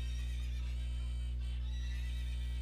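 A horse neighs in the video game Zelda: Ocarina of Time, a single whinny heard alone over a constant low electronic hum.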